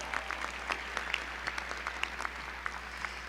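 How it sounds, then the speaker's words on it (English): Audience applause at the Kirk Kerkorian School of Medicine 2022 commencement, a steady patter of many hands that stays fairly soft and distant throughout, with no voices over it. "Let's have another round of applause"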